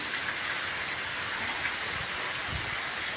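Steady rain from Cyclone Remal falling on surfaces in farm fields, a dense even patter that stays constant throughout.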